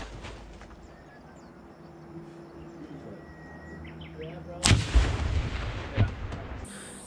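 Fragmentation grenades going off during Marine Corps throwing training, one heavy blast followed by a couple of rumbling reports at a distance over open-air ambience with insects and birds.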